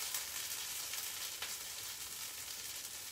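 Falafel frying in a pan gives a steady, dense sizzle throughout, fairly close and moderately quiet, with small crackles and no talking.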